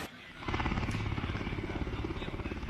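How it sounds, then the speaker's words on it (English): A Seahawk helicopter lifts off after a sea rescue at a coast guard exercise, its loud rotor and engine roar rising and staying steady with a rhythmic beating throughout. "After this, the helicopter will ascend and make way to the nearest hospital."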